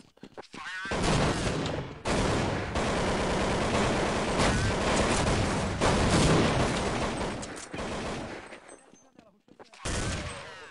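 Loud bursts of rapid gunfire in the video game Counter-Strike 1.6 come in dense, sustained volleys broken by a few brief pauses.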